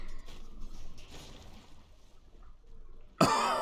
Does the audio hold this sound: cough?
yes